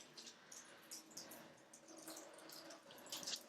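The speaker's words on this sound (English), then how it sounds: "Drain your water out." Water from a tin drains into a kitchen sink during chicken pie prep, soft splashing and dripping with small irregular spatters, close and quiet.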